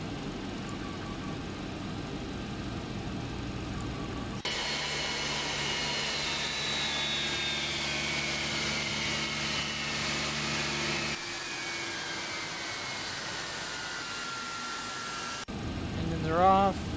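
Boeing 767 engines in the X-Plane 11 flight simulator spool down, a steady broadband jet whine with falling tonal lines that fades gradually over several seconds, preceded and followed by cockpit ambience.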